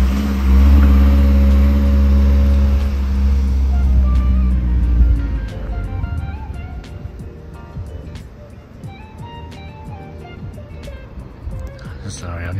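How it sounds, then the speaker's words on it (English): A car engine revving heard from outside, a loud low sustained roar that rises in pitch and then drops away, with people talking over it. "The car does sound really good from the outside."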